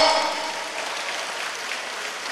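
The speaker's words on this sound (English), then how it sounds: "I think you all deserve a round of applause" Audience round of applause at a fundraising dinner, a short sustained wash of clapping at moderate level, with no talk over it.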